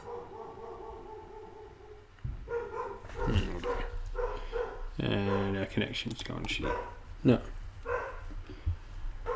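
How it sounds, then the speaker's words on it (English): A dog barks and yips off in the background, irregular bursts partly buried under people talking over a call. "So I think I can hear my yep. dog going nuts at something."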